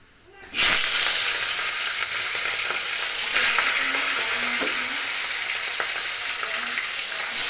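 Bhetki fish pieces fry in hot oil with a loud, dense, steady sizzle that starts abruptly and holds close and constant, with faint scattered pops and clinks.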